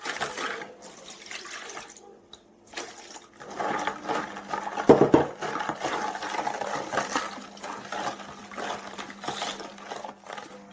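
Liquid pours and splashes into a bowl of egg and dough mixture for pirozhki for several seconds, with light clinks and a faint steady hum underneath.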